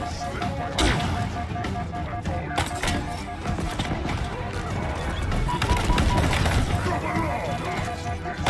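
Rapid gunfire in the Halo Infinite campaign: dense bursts of automatic weapon shots and sharp single cracks, loud and close, layered with other game effects and continuing throughout.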